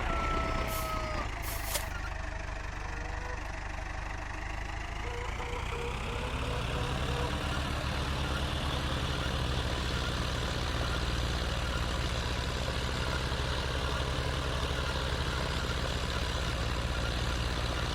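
A vehicle hitches a trailer in Farming Simulator 2013 with a steady engine drone, a short hiss and brief beeps early, then a continuous idling hum, moderately loud.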